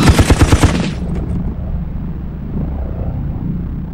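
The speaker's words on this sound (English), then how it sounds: "He turned the big machine gun round, a 50 millimeter, and fired up at the ministry windows." A tank's 50 millimetre machine gun fires a rapid burst of about seven heavy, booming shots, then trails off into a low rumbling echo that slowly fades.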